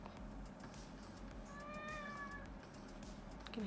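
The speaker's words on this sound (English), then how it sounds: "I can hear my cat in the background." A pet cat meows once in the background of a quiet room, a single drawn-out meow of about a second, faint against a low hum.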